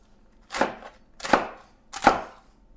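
Three crisp knife chops land on a cutting board while salad ingredients such as iceberg lettuce, beet and orange are cut, evenly spaced, close and distinct against a quiet background.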